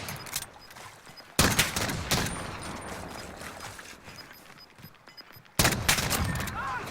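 Video game gunfire in a competitive Search and Destroy tournament match: two sudden loud volleys of rapid shots over a busy game backdrop of ongoing fire and mechanical noise, with no talking.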